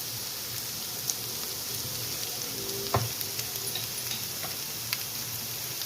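Sliced onions and green chillies fry in oil with bitter gourd, a steady close sizzle with occasional light stirring clicks and taps, no voices.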